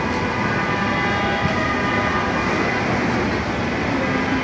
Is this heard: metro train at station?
yes